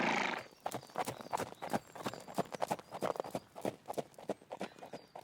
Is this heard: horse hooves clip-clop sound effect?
yes